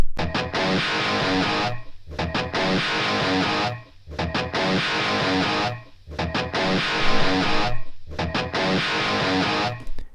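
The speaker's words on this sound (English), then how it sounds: "you hear how just absolutely overloaded that sound is" Heavily distorted electric guitar chords through an overloaded, hard-clipping Marshall amplifier, saturated and buzzy, played in repeated phrases separated by brief gaps, loud and alone.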